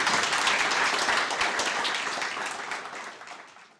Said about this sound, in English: Big round of applause for Alex.